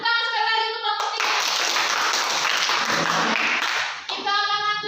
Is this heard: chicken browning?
no